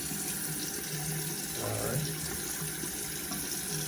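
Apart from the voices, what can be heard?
running warm water rinsing a Rolex watch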